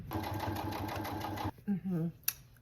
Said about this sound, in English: Top stitch it.